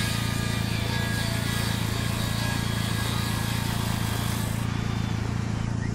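A saw cuts into a tree in the Ranch Simulator video game, a loud, steady, unbroken engine drone and grinding that runs the whole time.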